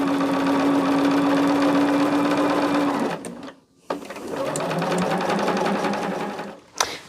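A sewing machine stitches quilt pieces together in a long, loud, steady whirring run close by, then stops briefly with clicks and starts again for a second run.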